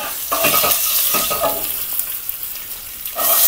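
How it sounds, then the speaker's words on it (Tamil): Curry leaves and chopped garlic crackle and sizzle in hot oil as a spoon stirs the pan, with bursts of loud spattering. "கருவேப்பிலை சேர்த்துருக்கிறேன், நல்லா பொரிஞ்சிருச்சு"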